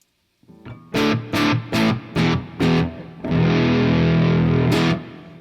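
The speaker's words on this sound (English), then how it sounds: "That's a really big reverb, nice and full and rich." Electric guitar played through a large, full reverb in MainStage: five distorted strummed chords in a steady rhythm, then a sustained chord that washes out in a long, rich tail, loud and close with no talking.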